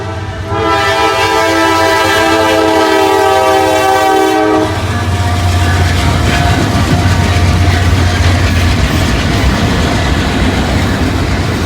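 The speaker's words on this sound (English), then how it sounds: "sure enough, a train will come" A train roars past close by a depot in Princeton, Indiana, its horn blaring for several seconds before giving way to the loud, steady rumble and clatter of rolling cars.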